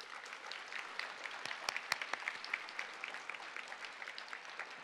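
Commencement audience at a UC Santa Barbara ceremony applauding, a quiet, distant patter of many hands with a few sharper individual claps standing out.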